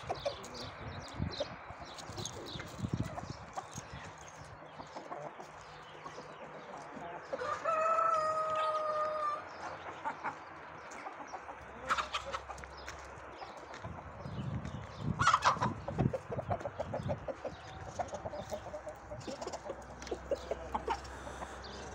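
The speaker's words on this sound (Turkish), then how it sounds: "Gold Brahma tavuklarımız. Dışarıya çıkardık, biraz hava alsınlar dedik." Gold Brahma chickens outdoors: scattered soft clucks and clicking movement throughout, with a rooster crowing twice, once clearly in the middle and again briefly later, all fairly faint and distant.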